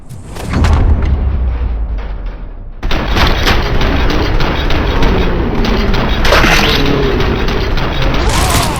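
Gunfire in RoboCop Rogue City, loud sustained booming shots and rattling blasts in a dense game battle soundscape, briefly cut off before resuming.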